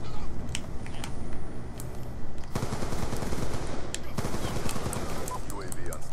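Shotgun fire in Black Ops 2: sharp, punchy blasts crack out repeatedly over a steady, busy gunfight din, loud and close throughout.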